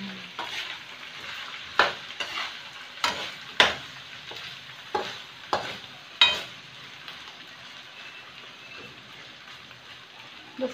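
Garlic frying in a pan gives a steady sizzle, and a spatula stirring it adds several sharp scrapes and knocks, close by, with no talking.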